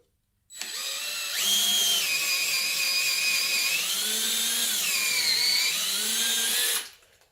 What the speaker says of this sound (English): Try and hold the drill relatively straight and just drill slowly through it.